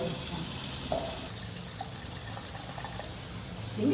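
Water runs steadily from a tap while tamarind is washed, a soft continuous gush with faint clinks, close by and without talk.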